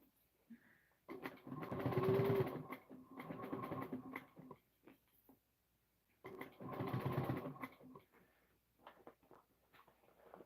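A sewing machine fitted with a safety clutch stitching a messenger bag, running in two sustained bursts of whirring stitches separated by a pause, fairly quiet and close, with small handling sounds between runs.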